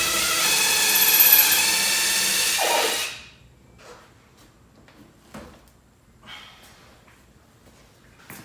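A power tool whirs loudly for about three seconds while removing spoiler bolts from a car's rear hatch, then stops, followed by quiet clicks and light knocks of parts being handled.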